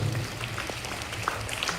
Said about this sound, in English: Let us give them a big round of applause to the class